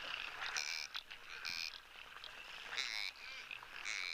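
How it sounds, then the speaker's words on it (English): Springbok out in the wild give soft, croaking, frog-like calls, repeated in short bursts at a distance over a constant hiss of outdoor background noise. "The springbok almost sound like amphibians, or like little frogs."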